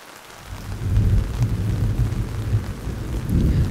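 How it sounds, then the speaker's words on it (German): Thunder rumbles low and steadily through a rainy May storm outdoors, with a broad wash of rain beneath it and no voices. "Von weitem höre ich Donner grollen und ein Blitz zuckt zwischen den grauen Wolken"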